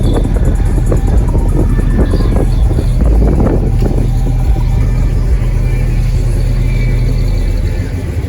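Loud, close truck engine rumbling and revving at a classic car show in Dallas, Texas, a dense continuous roar with wind buffeting the microphone.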